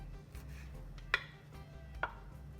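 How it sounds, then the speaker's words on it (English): Knife chopping vegetables on a board for an omelette, two distinct sharp cuts about a second apart over a quiet background hum, close and clear with no talking. "Just chop them all together"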